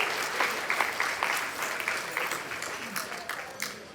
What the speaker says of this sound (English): let's give a big round of applause for the Fullertons